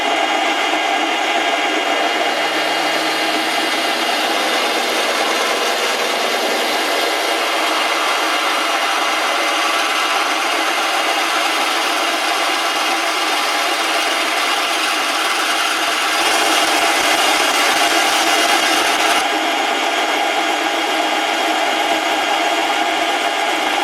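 A drill bores a hole in metal for the handle of a vintage lathe tailstock, a steady, loud, continuous grinding whir that holds for over twenty seconds and grows slightly harsher near the end, with no talk.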